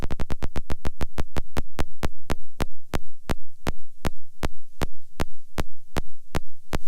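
Slow electronic synthesizer pulses, a steady train of sharp, loud clicks that start fast and gradually slow to about one per half second, with a low hum between them.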